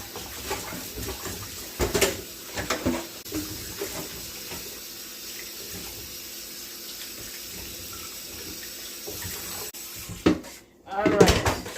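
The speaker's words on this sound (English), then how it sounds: "I'm going to use 2 Irish potatoes. I'm going to wash this off." Two Irish potatoes are rinsed under a running kitchen tap, a steady hiss of flowing water with occasional louder splashes and knocks against the sink and dishes.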